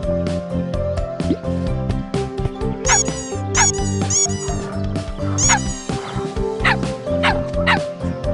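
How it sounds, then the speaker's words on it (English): A cartoonish puppy in a puppy video game yips and whimpers in high, rising squeaks over bright, looping background music, several short barks spaced a second or so apart. "Pet the puppy."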